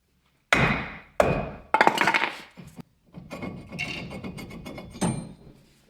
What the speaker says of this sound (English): Basically just twisted this whole assembly and was able to smack it from the back to pop it loose.